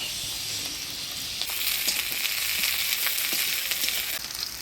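Chopped onion, green chilli and garlic frying in hot oil with black cumin seeds, a loud, steady close-up sizzle that surges and intensifies partway through, with occasional crackles and no talk.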